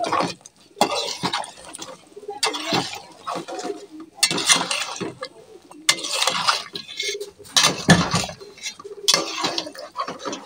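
A spoon scrapes and clinks against a pot while beef curry with potatoes is stirred in a home kitchen. The clatter is close and loud, coming in irregular bursts with brief pauses and no talk.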